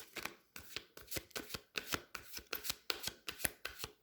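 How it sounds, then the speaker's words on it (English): Tarot cards laid out one after another on a surface, a steady run of crisp papery slaps and flicks coming roughly twice a second, close and fairly quiet with no talking. "Put out some clarifiers for these cards here."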